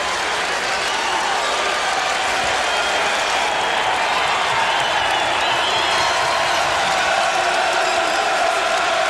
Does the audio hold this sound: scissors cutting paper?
no